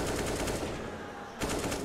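Rapid automatic gunfire in the video game Counter-Strike, played at a professional Inferno map match. Bursts rattle continuously, ease off briefly, then pick up again as another dense volley near the end.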